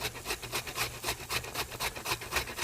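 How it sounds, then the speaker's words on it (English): Squash is grated on the coarse side of a box grater, making rapid rhythmic rasping strokes in a steady back-and-forth pattern, close and alone. "you hold your squash or anything else that you're going to use a grater for, and you, in an angle, you start grating"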